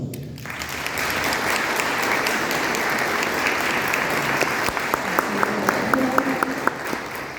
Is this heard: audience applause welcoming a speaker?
yes